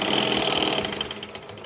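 A sewing machine runs continuously as it stitches lines on a bag, a dense close mechanical whir that slows and turns choppy toward the end, with no talking.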